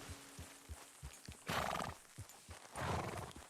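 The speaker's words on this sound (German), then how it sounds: "Das ist mein Pferdchen. Das kommt auch schon angerannt." A horse in Red Dead Redemption 2 comes running up, hooves clip-clopping in a quick patter, then two loud whinnying neighs close by.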